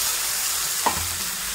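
Boiled whole green gram is stirred into spices sautéing in a pan, making a continuous close sizzle with one brief scrape of the spoon in the middle. It is fairly loud, and no talk is heard.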